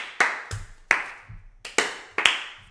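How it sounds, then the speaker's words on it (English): A group clapping to sync a podcast recording: six sharp separate claps at uneven intervals, each with a short ringing decay, close and loud with no talk. "Everyone just do your clap."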